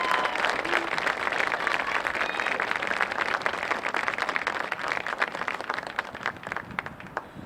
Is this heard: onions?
no